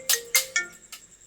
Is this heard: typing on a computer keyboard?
no